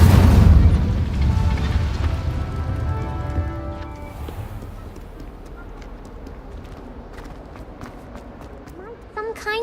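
Incendio fire spell blast in the video game Hogwarts Legacy, a loud booming burst at the start that decays into a ringing tail, followed by fainter game sounds.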